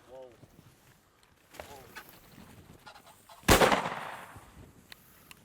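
A single shotgun blast rings out sharply during an upland bird hunt at Flint Oak in Fall River, Kansas, with a lingering echo, preceded by soft bird-like clucking and quiet background movement.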